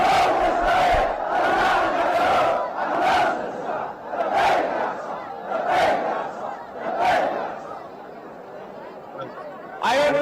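A huge crowd chants in unison at a Quds Day rally in Yemen, loud rhythmic bursts of many voices repeating every second or so, with brief pauses between shouts.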